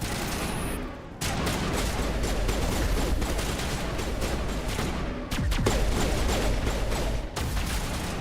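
Rapid pistol gunfire in the video game Mass Effect 1, dense volleys of sharp shots crackling almost continuously over a battle din, with brief gaps around the first and fifth seconds.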